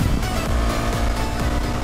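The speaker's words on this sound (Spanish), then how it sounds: "Esta moto es monocilíndrica y suena como si fuera bicilíndrica." A loud, throaty single-cylinder Husqvarna Svartpilen 401 motorcycle engine idling and revving, its rough, pulsing exhaust note sounding almost twin-cylinder, close by.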